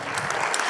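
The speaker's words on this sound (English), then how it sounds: "Keep clapping, let's clap." Brief burst of audience clapping at a conference talk event, a close, steady patter of many hands over less than a second.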